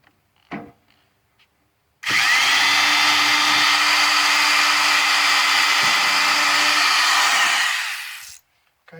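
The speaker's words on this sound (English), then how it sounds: "Okay, I'm drilling holes" Power drill boring holes in the door of a 1979 Chevrolet C10 truck with an old bit, a loud continuous whine lasting about six seconds after brief faint sounds, then stopping.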